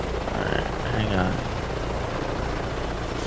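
A helicopter flies nearby in Microsoft Flight Simulator 2024, its rotor and engine making a steady, loud droning whir while a person talks over it.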